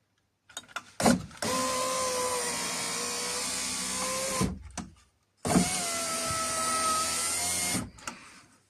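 A Chevrolet Lacetti power window regulator motor runs in two long steady whirring passes, each ending with a strained slowdown, separated by a brief pause, close and loud with faint clicks around them.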